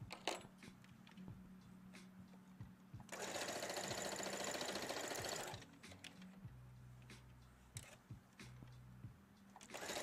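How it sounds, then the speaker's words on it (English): Sewing machine stitching through a quilt block, a steady close whirring run of a few seconds between quieter bursts of machine motor hum and small mechanical clicks, with no talking. "there's something soothing about the sound of a sewing machine"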